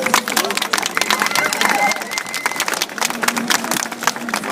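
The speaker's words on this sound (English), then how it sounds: "Round of applause for everyone here." A crowd at an outdoor march against fur in London claps, producing a dense, continuous patter of many hands, with scattered cheers and voices mixed in throughout.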